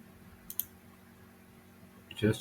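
Computer mouse clicks during social media account setup, a couple of light quick clicks early, then a louder knock near the end over faint room hum.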